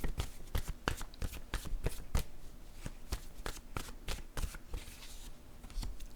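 Playing cards riffled and flicked in a quick, continuous run of crisp snaps, close and fairly quiet, with no voices.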